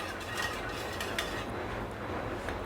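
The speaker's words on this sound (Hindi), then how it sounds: "इसे भी हम मिक्स कर लेंगे।" A spoon stirs vanilla essence into eggless chocolate cake batter in a bowl, giving faint, soft scraping and clinking that runs steadily for a few seconds.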